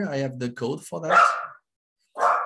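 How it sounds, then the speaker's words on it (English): A dog barks twice in short bursts after a man's speech, the second bark coming alone after a brief silence. "sorry about my dog"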